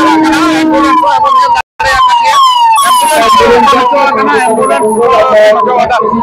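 A loud wailing ambulance siren sweeps up and down repeatedly, close by, with crowd chatter underneath.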